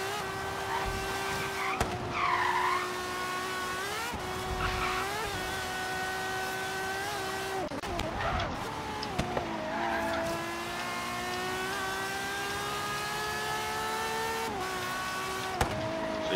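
Ferrari 599XX racing on the Goliath circuit in Forza Horizon 3, its high-pitched engine whine rising and dropping through gear changes, with repeated tire skids and squeals on the corners, loud and continuous.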